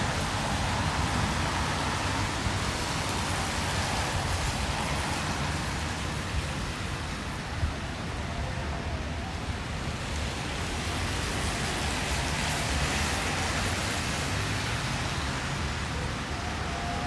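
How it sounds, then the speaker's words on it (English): Steady, dense rain hisses continuously outdoors in Coventry, England, a broad even wash of falling drops at constant loudness with no voices. "We're just taking a quick break from the rain."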